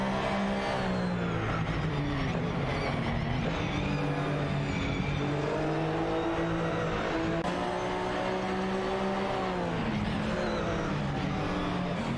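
GT3 race cars, including a Jaguar XTR GT3, roar past in a close pack, engines droning and shifting pitch as they accelerate and change gear, loud and continuous throughout.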